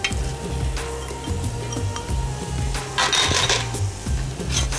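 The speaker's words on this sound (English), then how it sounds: "Gently stir that through." Paella with red peppers being stirred in a pan, a steady sizzle with rhythmic scraping strokes of the spoon, close and fairly loud with no talking.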